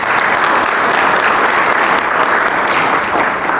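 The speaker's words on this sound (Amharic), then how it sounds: "ለላይፍ ታይም አንድ ሞቅ ያለ ጭብጨባ" Warm applause from a crowd at an event honoring Life Time, dense continuous clapping for several seconds, steady and loud with no talk over it.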